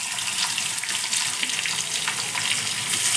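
Onion and a pinch of cumin frying in hot oil for a mutton dal dish, making a steady close crackling sizzle that holds throughout, with no talking.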